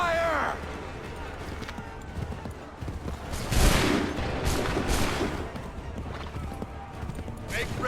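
A massed musket volley in Assassin's Creed 3 bursts out in a few loud, crackling blasts over a battlefield din, with voices shouting commands and hoof-like clatter nearby.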